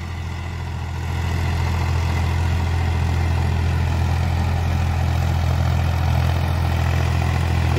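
A new three-cylinder 40 HP 405 tractor engine runs steadily on trial, its deep, even diesel drone holding at one level throughout, close and loud with no talk.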